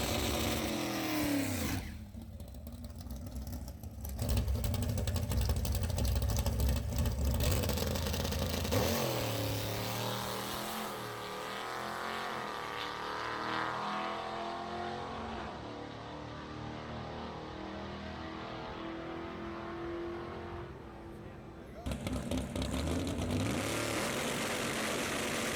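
A 1968 Dodge Dart drag car approaches and roars past, its engine revving loudly before fading into a lower rumble and then surging again near the end.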